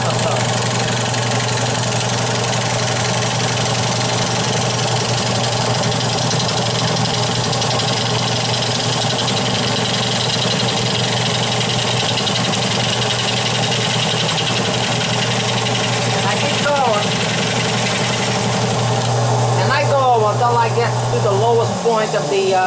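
Wood lathe turning a natural edge pepper tree bowl, a steady loud motor hum with a strong low drone and the tool cutting into the spinning wood, close up, with someone talking over it.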